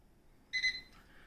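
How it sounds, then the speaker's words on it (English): A Whirlpool microwave's button gives a single short, bright electronic beep, close and alone in a quiet room. "press and hold two until you hear a beep"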